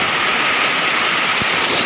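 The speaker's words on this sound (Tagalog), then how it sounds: "pumatak na sa lupa ang napakalakas ng ulan" Heavy rain pours steadily onto the ground outside a house, a loud, dense, unbroken hiss that fills the scene.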